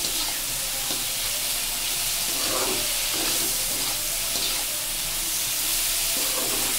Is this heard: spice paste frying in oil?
yes